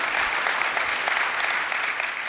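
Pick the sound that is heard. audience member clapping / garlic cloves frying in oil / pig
audience member clapping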